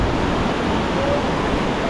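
Ocean waves at Guarujá beach on a sunny day, a steady broad wash of surf noise, close and continuous, with some wind on the microphone.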